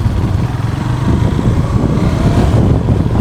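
A KTM Duke 390 motorcycle engine runs steadily close by, a dense, even low rumble that holds for the whole stretch with no talking.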